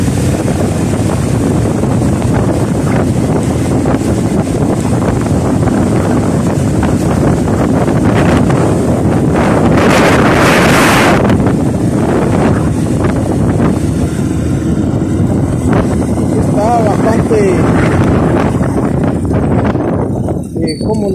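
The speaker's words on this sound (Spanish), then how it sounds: "Está haciendo bastante norte acá en la zona." Strong north wind buffets an outdoor microphone with continuous loud rumbling gusts in a residential area of Nuevo Cuscatlán, La Libertad, El Salvador, with a brief louder gust midway.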